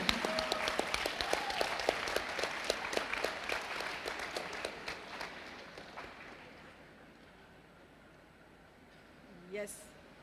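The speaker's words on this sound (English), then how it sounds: "Let us give a big round of applause for the reception team." A youth fest audience claps for the reception team, the applause crisp and full at first with a voice over it. It thins out and fades to near quiet by about six seconds, then a brief sound follows near the end.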